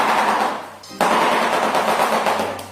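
A rapid, sustained wooden clattering like a machine gun, loud and near, with a brief pause before resuming in a long continuous rattle.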